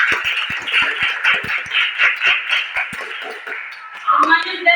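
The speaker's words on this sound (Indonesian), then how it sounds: "bisa beri tepuk tangan dulu" A class of students claps in a loose, uneven rhythm of sharp nearby hand claps that thins out before a voice starts speaking at the close.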